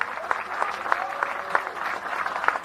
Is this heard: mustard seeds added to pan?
no